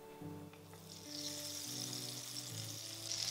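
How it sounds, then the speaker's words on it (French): Butter and olive oil heat in a frying pan over medium heat, a soft sizzle building gradually and becoming steadier, under quiet background music. "vous commencez par faire chauffer une poêle sur feu moyen et vous ajoutez de l'huile d'olive et du beurre"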